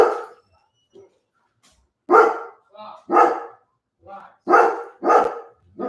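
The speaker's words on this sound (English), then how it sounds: "she's just barking" A dog barks in short, loud bursts from close by, several barks in quick succession with gaps between them, inside a home during a livestream.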